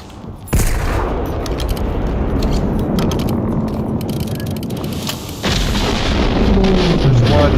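Heavy 50 cal armor-piercing gunfire in Generation Zero, a sustained barrage of loud booming shots with a brief lull and then renewed firing, close and dense.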